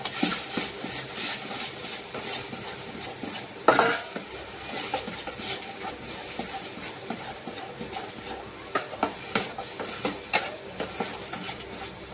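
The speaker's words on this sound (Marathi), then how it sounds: "धना जिरा पावडर आणि थोडासा गरम मसाला मिक्स करून घेऊया याला व्यवस्थित." Coriander cumin powder and garam masala are mixed into aloo kofta gravy in a pan, giving repeated close spoon scrapes and clatters over a steady frying sizzle, with no one talking.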